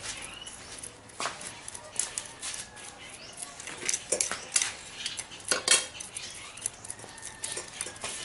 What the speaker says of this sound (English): to loosen the roots